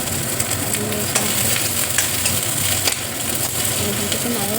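Onion, chili and garlic with a little ajwain frying in oil in a home kitchen, a steady close sizzle with occasional stirring scrapes, no talk over it.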